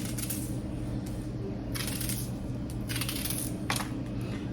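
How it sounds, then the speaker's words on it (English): A knife cuts through an onion with a few short, crunchy bursts, spaced unevenly and heard close over a steady low kitchen hum. "so this is my onion. I'm just gonna cut it up just like this"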